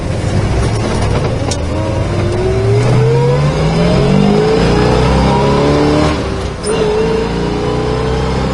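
A 1968 Chevrolet Chevelle accelerates hard from inside the car, its V8 engine note climbing through rising gear pulls with brief dips at the shifts, loud and close throughout.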